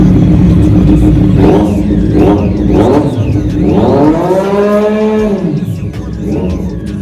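A superbike's exhaust revving up in rising and falling sweeps, loud and close, with one longer held rev in the middle and a steady idle underneath.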